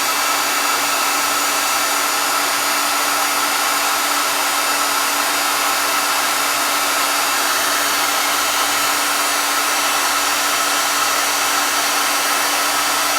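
A heat gun blows hot air onto a broken wireless phone charger board, a steady, loud, unbroken whoosh that holds constant from start to finish with no talk.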